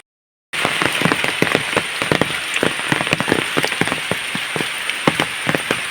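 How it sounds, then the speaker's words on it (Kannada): Steady light rain pattering on a surface, with scattered individual drops tapping throughout after a brief silent start. "ಲೈಟಾಗಿ ಮಳೆ ಬರ್ತಾ ಉಂಟು"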